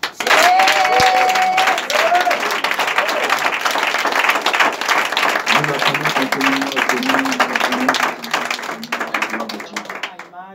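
Church congregation applauding and cheering for Jesus: dense, loud clapping from a crowd sustained throughout, with shouts and voices mixed in, tapering toward the end.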